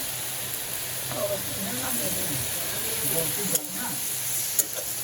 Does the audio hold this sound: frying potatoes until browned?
yes